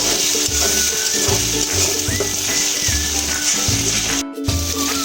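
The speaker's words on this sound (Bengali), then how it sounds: "ডিমটা এবার আমি আলু ভাজার মধ্যে দিয়ে দেবো ভেজে নেব" Beaten eggs frying in a pan together with fried potatoes give a steady, loud sizzle. Soft stirring scrapes come through now and then, and no one speaks.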